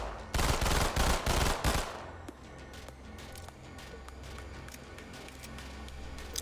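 Rapid automatic fire from a Glock pistol in the S.T.A.L.K.E.R. Gunslinger mod: a dense, loud burst of shots lasting about a second and a half, followed by a low lingering rumble and faint ambient game noise.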